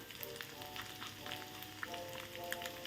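An egg deep-fries in oil in a pan for egg fried rice, a quiet, dense crackling sizzle with scattered pops throughout, steady and close, no talking.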